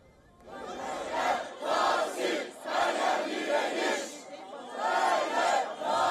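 A protest crowd in Istanbul rallies against the mayor's detention, chanting slogans in loud, rhythmic bursts from many voices, with short pauses between each repeated chant.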